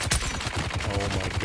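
Rapid gunshots from a video game ring out in quick bursts, loud and dense across the whole moment, with no voices over them.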